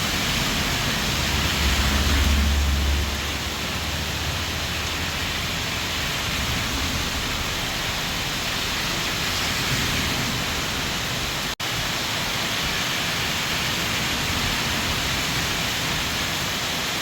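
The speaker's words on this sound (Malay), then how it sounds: "hujan sangat deras" Dense, steady roar of heavy rain, continuous and unbroken, with a brief low rumble early on and a single sharp click partway through, at the Bireuen–Bener Meriah border in Indonesia.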